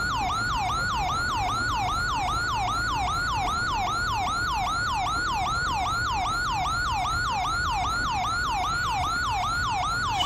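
A wailing ambulance siren in GTA 5 cycles rapidly and steadily without pause, loud and close, over a low constant rumble, with no talking.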